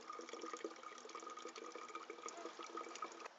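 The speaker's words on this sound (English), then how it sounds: "we're going to use it to refill our bottle" Water trickling from a squeezable filter bottle into a water bottle, a steady, close, fairly quiet pour lasting a few seconds with no voices.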